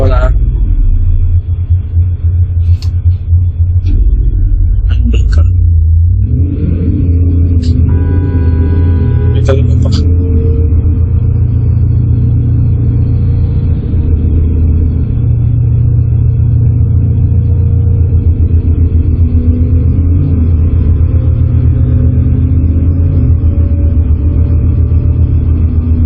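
Car engine running in a video game, a loud continuous low rumble with a few brief metallic clicks early on, droning steadily throughout.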